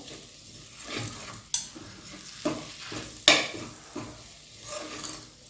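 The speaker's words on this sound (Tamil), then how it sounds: "நல்லா மிக்ஸ் பண்ணுவோம்" Spiced mutton curry masala is stirred in a pan over a soft sizzle, with a spoon scraping and knocking against the metal in a few sharp clacks spaced through the stirring, close by and without talk.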